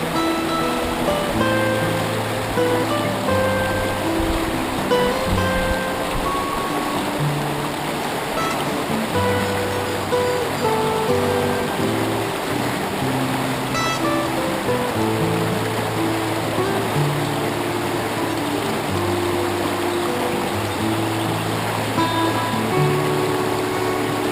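Rushing water churns and splashes continuously at close range, a loud, steady roar of a fast, rocky creek in Northeast Victoria tumbling over rocks.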